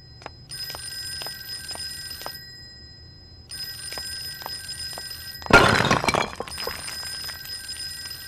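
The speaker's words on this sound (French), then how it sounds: "Les crosses, la statue, elle s'est pétée." A statue shatters in a video game with a loud burst of breaking debris, cutting across repeated electronic telephone-like ringing that pulses before and after it.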